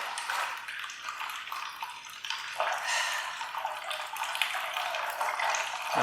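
Fluid draining from a 1967 Chevy C10 Stepside barn-find truck into a small drain pan, a steady close pouring and splashing stream that runs without pause and surges slightly partway through.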